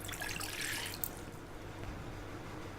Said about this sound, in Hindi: इसको बनाने के लिए एक खाली पैन लें और उसमें 2 कप पानी डालें।